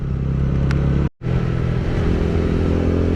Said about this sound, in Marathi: आणि मी आता रॉनिन चालवायला घेतली आहे